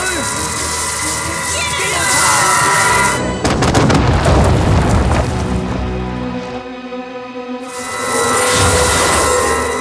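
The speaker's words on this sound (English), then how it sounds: "So what if the explosion ruined my plans?" A loud, sudden cartoon explosion in an animated adventure episode crashes in mid-clip and fades, with a rumbling roar set among music and sound effects.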